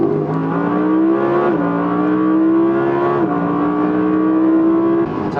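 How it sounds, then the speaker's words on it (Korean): An Audi R8 V10 Performance on kickdown gives a loud, close engine roar. The pitch climbs steadily, steps down briefly at each gear change and then climbs again, and the engine drowns out the road noise. "킥다운을 가면 차가 아주 폭발적으로 반응을 합니다."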